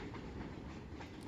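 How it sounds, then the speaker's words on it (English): Ambient train noise from a game's background sound option: a steady, continuous rumble of rolling rail cars with faint rhythmic clatter, held at a low, even level with no talking. "can make more train sounds."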